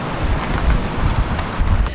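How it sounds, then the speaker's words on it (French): Strong wind buffeting the microphone outdoors at Saint-Nazaire during a 10 km running race, a loud, rough, gusty rumble that fills the short moment. "il y a un vent de malade"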